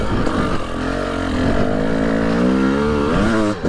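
Motorcycle engine labouring steadily as the bike crawls up a steep hill-climb slope, a close, continuous drone with shifting pitch that rises toward the end as the throttle changes.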